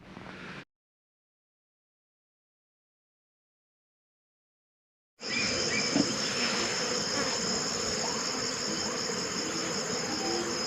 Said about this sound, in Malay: lalat ataupun langau, memang terlalu banyak